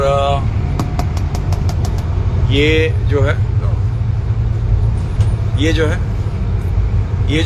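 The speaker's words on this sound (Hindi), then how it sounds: "सामने ड्राइवर भाई साहब अपनी गाड़ी चला रहे हैं, अपने गति में वो चल रहे हैं।" Steady low rumble of a car being driven at about 80 km/h in Pattaya, Thailand, heard from inside the cabin, continuous road and engine drone under someone talking throughout.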